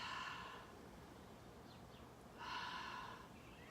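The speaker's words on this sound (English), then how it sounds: "Taking a few deep breaths." Slow deep breaths during a morning yoga routine, two soft drawn-out breathy exhales several seconds apart, close and quiet.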